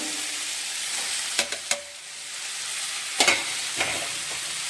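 Chopped onions frying in a pan for bhurji give a soft, steady sizzle with a few sharp stirring scrapes, fairly faint and close.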